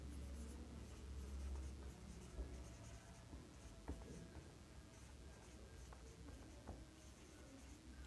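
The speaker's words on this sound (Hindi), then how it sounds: "लिख देता हूँ मैं" Hand-writing on paper during a maths lesson, a faint, steady scratching of pen strokes with brief pauses and light taps, heard close and alone in a quiet room.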